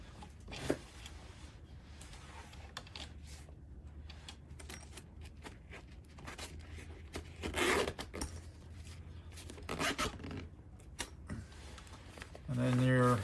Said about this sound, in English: This just zips.